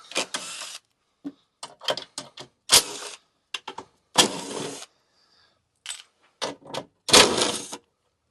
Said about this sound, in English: I'm using a 10 millimeter on a little impact.